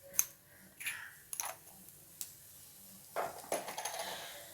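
Mustard seeds and urad dal tempering in hot sesame oil in a pan, giving scattered sharp pops and crackles at uneven intervals, moderately close and fairly quiet, with no voices.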